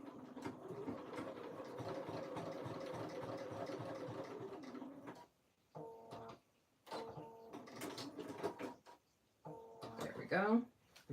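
A sewing machine stitches thick jacket fabric in a rapid rhythmic run for about five seconds, then stops and restarts in shorter bursts separated by pauses, close up, with a voice talking at the end.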